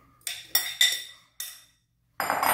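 Chopped mango pieces dropping into a mixer jar for mango lassi, a few sharp clinks and knocks spaced unevenly, then a softer rattling tumble at the end, close and clear.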